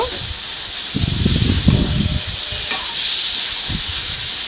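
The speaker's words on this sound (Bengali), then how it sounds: "এবার মাংসটা এই চুলায় কষাতে দিয়ে" Meat being sautéed on a stove gives a steady hiss, with louder rustling, scraping bursts in the first half and a few later stirs, close by and without talk.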